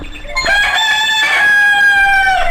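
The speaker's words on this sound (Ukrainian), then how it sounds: "Це півник вітає новий день." A rooster crows loudly and close, one long drawn-out cock-a-doodle-doo that holds steady before tapering off at the end.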